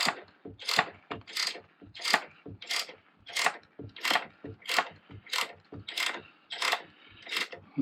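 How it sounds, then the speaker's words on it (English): A motorcycle fork preload adjuster is turned by hand through one full turn, giving a steady series of about a dozen sharp, evenly spaced ratcheting clicks, close and clear with no talk. "I'm going to undo the preload, and I'm going to undo that by one turn, fork leg"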